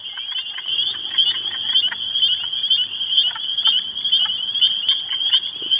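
A chorus of frogs calls continuously with high, rapid chirping trills, layered and unbroken, with a low murmur of other croaks beneath.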